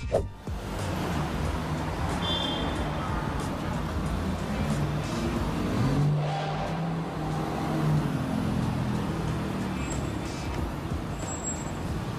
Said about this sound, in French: nous pouvons voir une voiture de sport rouler sur une route